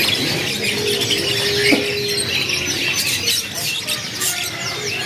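Local canaries at a bird shop chirp and tweet in quick, bright bursts over a busy background, with one longer sustained call in the middle and the birds sounding close.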